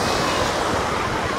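Sea surf rolling onto the crowded sandy beach at Vityazevo, Anapa, a continuous broad wash of waves with some wind noise, loud and close.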